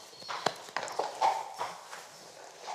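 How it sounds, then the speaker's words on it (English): A horse's hooves clip-clop at a slow walk, several distinct thuds on a hard surface, fairly close, with no talking. "That's a huge horse."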